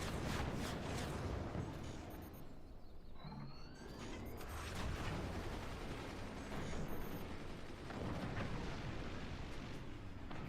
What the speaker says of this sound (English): the mortars are starting to overpenetrate the base. Magna beam mortars.